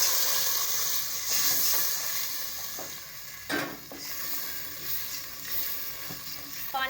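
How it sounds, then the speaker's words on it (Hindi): Water goes into a hot pot while coriander and mint rice cooks, raising a loud steamy hiss and sizzle that rolls on with occasional stirring clinks and knocks against the pan. "अब मैं डालने लगी पानी।"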